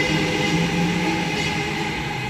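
A Sydney H-set passenger train runs through Heathcote station without stopping, producing a steady, loud rumbling roar of wheels and carriages close by, with no talking.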